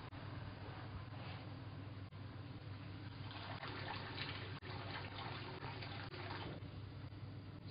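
Water pours steadily into a pot over pork mixed with sugar, a continuous rushing, splashing flow that swells in the middle and holds without break, with no talk.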